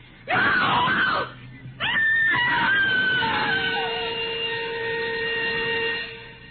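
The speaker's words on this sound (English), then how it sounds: "A woman screamed and cried for help on the Wayfield Common." A woman in a radio drama lets out a loud, close scream, then after a short gap a long, wavering wail of crying and pleading that slowly fades out.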